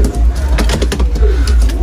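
A Mulemans pigeon coos in a low, repeated rolling call, close up, over a steady background hum.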